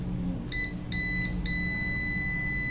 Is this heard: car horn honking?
no